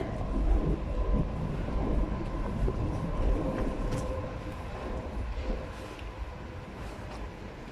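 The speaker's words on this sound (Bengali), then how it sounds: "ওই যে ট্রেন যাচ্ছে" A train rumbles past steadily, a broad low roar with rattling that slowly fades over several seconds, no voices.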